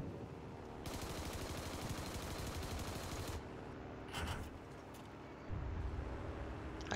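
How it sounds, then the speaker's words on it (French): Anti-aircraft fire in a flight combat game pounds as a rapid, continuous stream of shots over engine drone, broken by a few louder thumping bursts near the end. "J'ai l'impression qu'il y a une défense antiaérienne qui m'attaque."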